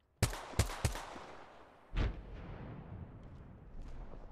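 Gunfire from an Apex Legends match: three quick sharp shots, then a heavier boom after a short pause, followed by faint distant shots and ambient battle noise.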